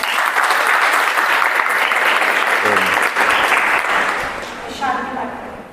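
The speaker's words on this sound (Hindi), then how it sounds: "एक बार फिर से तालियों से स्वामी जी का धन्यवाद।" A gathered audience claps warmly in thanks to a Swami at a gurukul event, a dense, steady burst of applause that fades toward the close, with a brief voice rising over it near the end.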